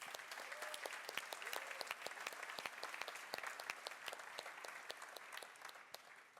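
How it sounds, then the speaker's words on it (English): Audience applause at a Techstars startup demo day in Torino, steady sustained clapping from a sizable crowd with no talk over it. "So give a round of applause for"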